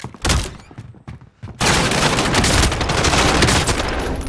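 Gunfire in the battle royale video game Warzone, scattered loud shots at first, then a continuous, dense roar of sustained firing and explosions that stays loud to the end.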